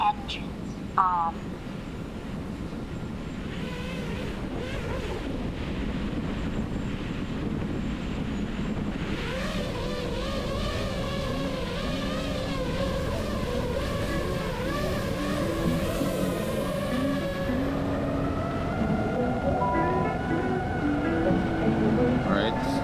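An FPV drone's electric motors spin up outdoors at sunset, giving a steady buzzing whine whose pitch shifts and climbs over a constant wash of wind noise on the microphone.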